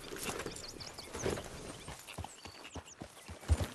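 Horse hooves clip-clopping at a walk in Red Dead Redemption 2, a soft, uneven series of hoof thuds over light ambient game noise, with no speech.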